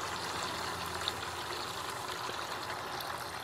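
Water running steadily through a portable deionizer tank while it is being charged, a continuous close hiss and trickle with no pauses and no voices.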